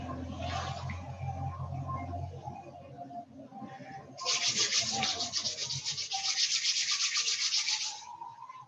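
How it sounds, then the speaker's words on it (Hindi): Palms rub over the body before seated meditation, making a close, steady brushing and swishing friction sound that grows louder and denser partway through. "बॉडी को एक बार रब कर लेंगे।"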